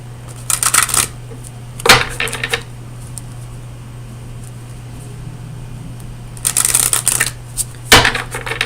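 Oracle cards are shuffled during a tarot reading, in short crisp riffling bursts in two pairs separated by pauses, close to the microphone over a low steady hum, with no talk.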